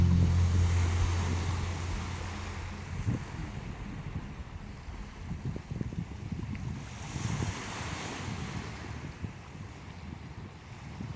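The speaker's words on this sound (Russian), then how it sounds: "и уже волны вот такие начались" Aegean Sea waves rush and wash continuously with wind buffeting the microphone, and a low rumble fades out early on.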